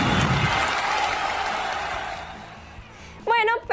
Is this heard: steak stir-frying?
no